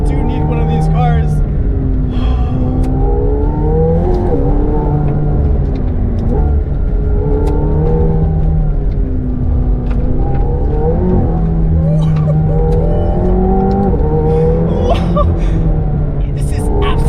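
A McLaren 720S supercar drives and accelerates on an open road, its engine droning steadily with rising and falling pitch sweeps as it revs through gears, loud and continuous, with a voice speaking over it throughout.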